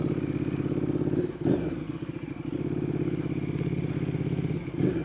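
A motorcycle riding through traffic, its engine running as a steady, loud low drone with a brief bump and shift in the middle and a continuous rumble throughout.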